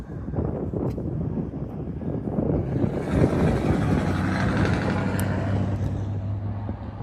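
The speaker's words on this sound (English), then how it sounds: "It is very windy out here." Strong wind gusting outdoors near a ballpark at dusk, a loud continuous roar buffeting the microphone for the whole stretch, with a low steady drone creeping in toward the end.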